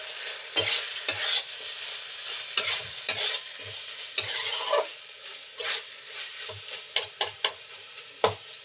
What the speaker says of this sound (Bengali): দিয়ে একটু ভালো করে নাড়াচাড়া করতে হবে।